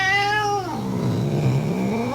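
A house cat coming in from outdoors gives one long, loud, drawn-out meow that slides down and back up in pitch, close by and with no talking.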